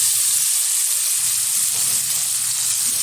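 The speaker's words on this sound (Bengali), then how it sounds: "পেঁয়াজটা একটু লাল লাল করে ভেজে নেবো" Chopped onion fries in a pan at a steady, loud hiss, added after the tempering spices for a thin chicken and potato curry, with no voices over it.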